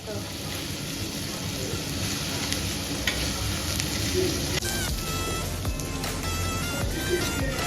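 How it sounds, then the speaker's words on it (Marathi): Marinated prawns fry in a hot pan, a dense steady sizzle with scattered crackles and spoon clinks, while someone talks faintly in the background. "तर मी हे प्रॉन्स पण फ्राय"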